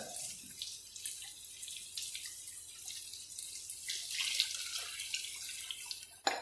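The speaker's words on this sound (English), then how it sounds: "Now we're just going to add the stock straight into that." Stock pours steadily into a pan with a bright splashing hiss, growing slightly louder toward the end before stopping with a small clatter.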